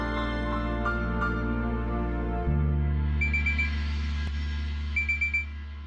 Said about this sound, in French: C'est pourquoi cette alarme?